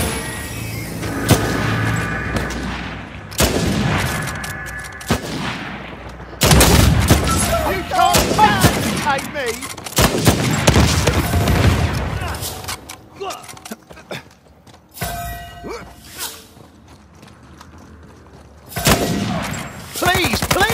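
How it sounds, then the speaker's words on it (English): Bursts of gunfire in a team deathmatch shooter on the Auction House map, loud volleys and rapid automatic fire in several clusters separated by quieter gaps, with someone talking over parts of it. "Oh, I love shooting you posh types."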